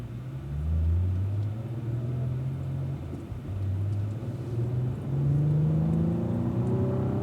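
A Cadillac V-series car on a race track accelerates through the gears toward third, its engine rising in a series of climbing pitch sweeps broken by shifts, a steady mid-loud rumble without talk.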